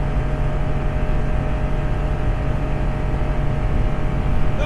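Ford 6.2L V8 truck engine revving hard near its 5,800 RPM redline, heard from inside the cab as a steady, loud droning roar that stays constant throughout with no talking.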